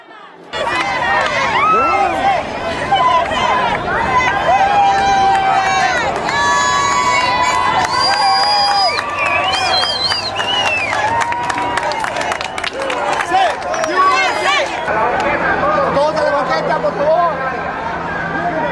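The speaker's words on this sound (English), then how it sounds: "Once the huge crowd of peaceful protesters reached City Hall" A huge crowd of peaceful protesters at an immigration reform mega march arriving at City Hall, loud and sustained, with dense chatter, shouting voices and scattered cheering and clapping, steady throughout with whistle-like tones in the middle.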